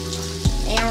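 Food sizzles and crackles as it fries in hot bacon fat, with a steady close sizzle and one brief low thump partway through.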